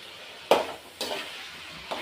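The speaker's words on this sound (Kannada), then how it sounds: "ಈಗ ಫ್ರೈ ಮಾಡ್ತಾಯಿದ್ದೀನಿ" Chicken gravy masala with turmeric fries over a low flame, a few separate scrapes of stirring rising over a soft sizzle.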